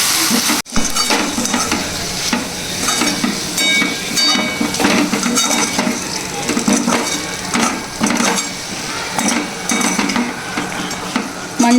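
Chicken pakodi being tossed in a hot pan with spices and garlic for restaurant-style Chicken Manchuria, giving steady loud sizzling and frying with repeated scraping and clattering of utensil against pan throughout.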